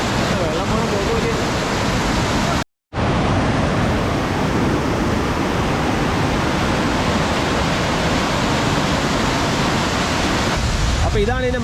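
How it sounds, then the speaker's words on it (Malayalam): Rushing water of a swollen waterfall at Nariyampara thunders close by as a loud, steady wall of noise, interrupted only by a brief gap near the start. "ആ വെള്ളം കുതിച്ച് വരുന്നത് അതാ വാട്ടർഫോൾസ്."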